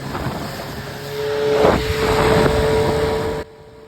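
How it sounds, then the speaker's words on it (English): An 8-horsepower outboard motor on a small dinghy hums steadily at close range, its drone rising slightly in pitch and loudness before cutting off abruptly near the end. "This is the same motor that was driving the big boat during the whole trip."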